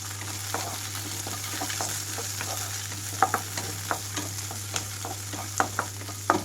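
Green chillies and curry leaves frying in a pan for coconut sesame chutney, a steady close sizzle with light scraping clicks from stirring.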